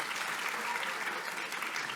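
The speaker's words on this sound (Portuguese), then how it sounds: "à equipa de audiovisuais, para quem eu peço uma salva de palmas" An audience in a university's main auditorium applauds at a music lecture-concert, a steady wash of clapping heard from a distance at low volume throughout, with no voices over it.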